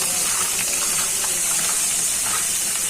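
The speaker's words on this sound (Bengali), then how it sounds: "এখন ভাজি করবো, তো তার জন্য লাউয়ের ছুলা এবং আলুর কুচিগুলো দিয়ে দিচ্ছি" Bottle gourd peel and chopped potato hit a pan of frying onions, setting off a loud, dense, steady hiss of sizzling that fills the short stretch.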